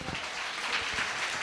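A church congregation applauds during a live Kannada Sunday sermon service, a fairly quiet, even spread of clapping lasting just over a second with no voices on top.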